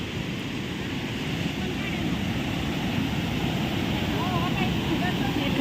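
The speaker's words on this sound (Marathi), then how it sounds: "किती आवाज येतोय पाण्याचा किती छान पाणी" Water rushes steadily over a weir during the monsoon season, a dense continuous roar close by that holds for the full stretch without breaks.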